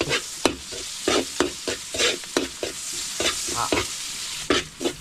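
Garlic and onion sautéing in a pan over a wood fire, with loud sizzling and frying and repeated scraping stirs at an irregular rhythm, up close and without talk.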